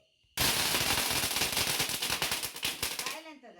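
A string of firecrackers bursts at a home celebration during a Tulasi puja festivity, a loud rapid crackling chain of pops lasting about three seconds before fading out.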